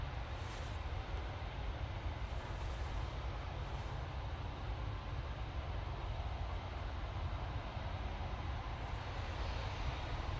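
A jet aircraft, a departing Bombardier Global, roars at an airport, heard as a broad, steady, distant rumble and hiss that holds constant throughout with no speech.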